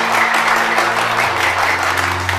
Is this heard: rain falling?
no